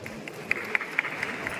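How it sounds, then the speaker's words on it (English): Audience applause at a gathering, a light patter of clapping with a few evenly spaced sharper beats, moderately faint and brief. "Give them a big round of applause"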